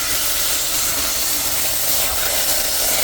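Country Crock Original butter melts in an already hot pan, producing a loud, steady sizzle with an even hiss and no pauses.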